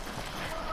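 Horse hooves clip-clopping at a gallop in the video game Battlefield 1, a brief continuous run of hoofbeats under dense game noise and chatter.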